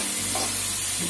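Chopped onions frying in a pan for a dal tadka and stirred continuously, a steady close sizzle with soft scraping of the spoon, loud and unbroken, with no voices.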